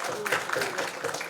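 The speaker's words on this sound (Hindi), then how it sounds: "तालियां इनके लिए हो जाए।" An audience claps at a press conference for a web show, a short burst of clapping that briefly mixes with a voice speaking.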